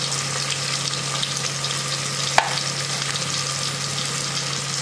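Onions for chicken biryani fry in a pan with a steady, even sizzle throughout, broken once by a brief sharp clink near the middle; no voices.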